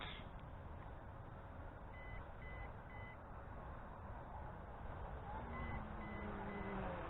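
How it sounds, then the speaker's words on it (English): A quadcopter drone controller's low battery alarm: two bursts of three short electronic beeps, evenly spaced, over a constant loud whirring hum of brushless motors and rushing wind. "So we've got an alarm on the radio controller for low battery,"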